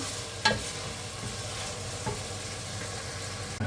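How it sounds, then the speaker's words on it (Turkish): Leeks tipped into a pan of frying vegetables for a spicy winter soup, with a brief rustle as they land, then a steady close sizzle and occasional stirring scrapes. "Pırasayı da dökelim."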